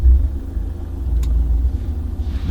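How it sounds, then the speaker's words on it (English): A BMW 520d 2-litre diesel engine starts up and settles into a deep, close rumbling idle with a faint click partway through, no speech. "The 2 litre diesel comes to life."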